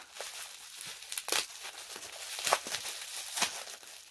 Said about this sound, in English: So this is bubble wrapped well, so let's unwrap it.